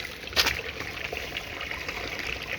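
George River in St. Joseph, Barbados flows and trickles in a soft, continuous wash nearby, with a brief brighter splash early on and no talking.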